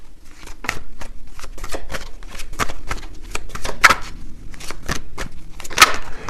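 Tarot cards shuffled and drawn in a rapid run of crisp, close riffling snaps and flicks, loud and steady with no talking.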